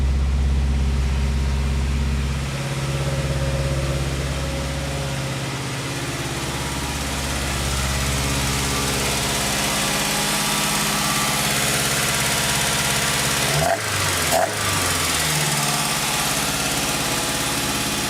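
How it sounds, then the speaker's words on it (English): A Toyota AE86 fitted with a 20-valve blacktop 4A-GE engine idles slightly high, a steady low rumbling hum that stays even and close, with a brief disturbance near the end. "It is idling a little bit higher than normal."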